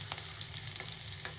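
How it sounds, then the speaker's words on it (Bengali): Chopped garlic and green chilli sizzle steadily in hot oil mixed with ghee in a kadai, a continuous close, even frying hiss with no talk. "কড়াইয়ে তেল গরম হয়ে গেলে দিয়ে নিলাম রসুন কুচি ও কাঁচা লঙ্কা কুচি।"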